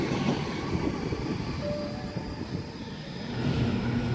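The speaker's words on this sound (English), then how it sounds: "At Dulwich Hill, we have an S-set pass on platform number 1." A Sydney S-set electric train runs through Dulwich Hill station on platform 1, a steady close rumble of wheels and motors that holds throughout with a brief thin squeal in the middle and no talk.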